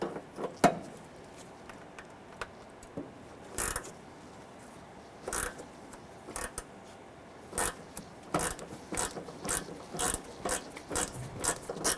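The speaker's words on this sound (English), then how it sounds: "Using our 10mm gear wrench, we're going to remove this bolt here." A ratcheting 10mm gear wrench removing a bolt on a 2008-2012 Honda Accord during a front engine mount replacement, making clusters of close, crisp ratchet clicks in uneven bursts with short pauses between them.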